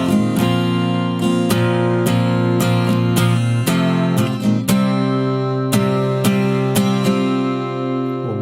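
An acoustic guitar slowly strumming the verse riff of a song, even downstrokes ringing out in a steady rhythm, close and alone without talking.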